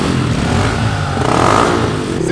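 A modified motorcycle fitted with a Yoshimura exhaust revs hard and close, its engine note climbing and holding a loud, throaty roar for a couple of seconds.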